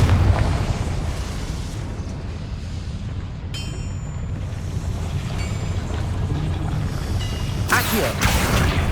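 A Confringo fire spell explodes in Hogwarts Legacy, with a sharp tonal flare midway and a bright burst near the end over a steady rushing, windy game ambience.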